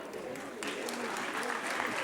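Audience at a youth parliament competition award ceremony claps steadily, a dense, continuous burst of applause filling the hall throughout, with no speech over it.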